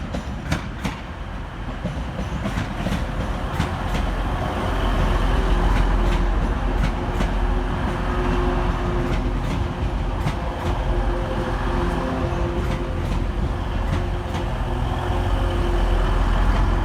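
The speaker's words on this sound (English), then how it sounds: "Arriving next into the station is 185 140 and 185 129, working the 1209 Transpennine Express service from Liverpool Lime Street through to Cleethorpes" Transpennine Express Class 185 diesel units pulling into Manchester Oxford Road station, a steady rumble and rolling wheel noise with repeated clicks over rail joints, close and continuous throughout.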